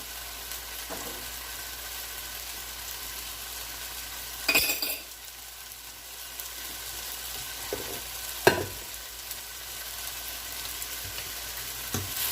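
Eggs being scrambled in a pan for Spanish-style chicken and noodle fried rice, with a steady low sizzle under occasional stirring and scraping, plus a few sharper clinks of utensil against pan.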